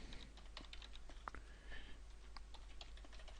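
Fingers typing on a computer keyboard while entering a line of code, a quick irregular patter of light key clicks, close and quiet over a faint low hum.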